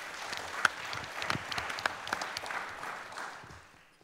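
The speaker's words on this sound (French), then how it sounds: "on peut d'ailleurs l'applaudir" Applause from an audience at an official hospital pharmacy conference session, a steady wash of many hands clapping that peaks early with a few sharp claps and then slowly fades out.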